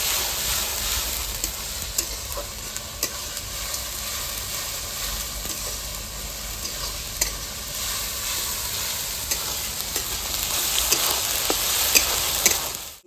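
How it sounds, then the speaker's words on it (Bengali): Ginger-garlic paste sizzling steadily among fried onions in a hot pan, a dense continuous crackle with scattered scrapes of stirring close by, no voices. "এবার দিয়ে দেবো আদা রসুনের পেস্ট। ভালো করে নেড়ে চেড়ে নেবো 2-3 মিনিট"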